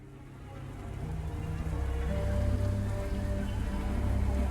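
Heavy rain lashing against windows in a storm, a dense steady hiss and patter that swells slightly louder, with no voices.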